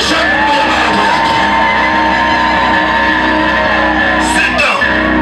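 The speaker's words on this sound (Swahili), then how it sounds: "Hebu ongeza kelele za shangwe ya mamlaka yake." A church congregation shouting and cheering in praise, a loud, sustained wall of overlapping voices and whoops from a large crowd filling the room.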